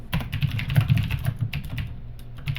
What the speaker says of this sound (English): you don't notice how loud your keyboard is until you type on it while you're recording.